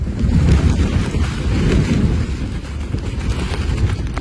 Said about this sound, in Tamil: அதான் இந்த அளவுக்கு காத்தடிக்குது.